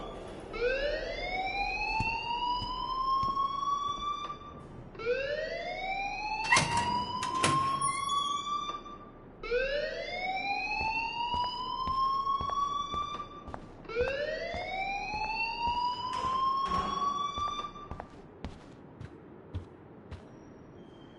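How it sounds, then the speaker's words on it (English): A repeating rising electronic alarm tone sounds in a PlayStation 4 video game, four long upward-sweeping wails with short gaps between them, loud and continuous over about twenty seconds, with a brief burst of other noise partway through. "please turn off that alarm since that's your job"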